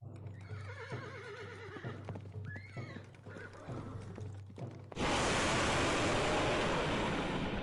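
A horse neighs and whinnies several times with a clatter of hooves, then a sudden loud, sustained roar of noise takes over for the rest.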